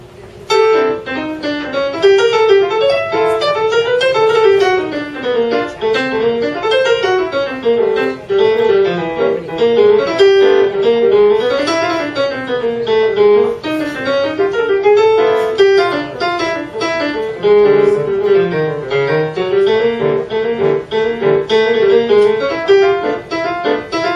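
Piano plays a continuous run of inner chords in a jazz master class, flowing and steady, with repeated notes shifting through the middle register, no voices.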